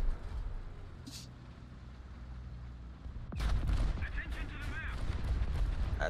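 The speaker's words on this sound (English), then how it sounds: "That's artillery?" War Thunder artillery in a tank battle with an M4A3E2 76 W Jumbo, heard as a low distant rumble followed by a sudden loud impact that leaves a rolling, crackling aftermath under faint voices.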